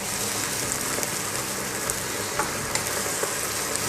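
Bulgur and onion frying in a pan, a dense, steady sizzle with faint crackles and occasional stirring scrapes, close and constant, no voices.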